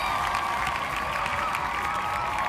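Crowd applause with cheering fills the whole moment, a dense steady wash of clapping and whoops at even loudness, without talk over it.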